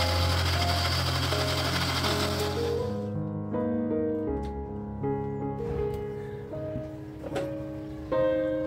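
A mixer grinder grinds green chillies and ginger into a fine paste for bhaji batter, a loud steady motor whir that stops partway through, leaving clinks and thuds.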